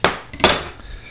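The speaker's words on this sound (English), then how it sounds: "I just take the big knife, cut it in half like this" A big kitchen knife cuts a squash in half with two quick, close, sharp knocks a fraction of a second apart, then a short fading tail.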